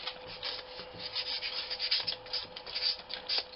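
Sanding a dune shape on a terrain model, heard as close, quiet rhythmic rubbing and rasping strokes, with no talking.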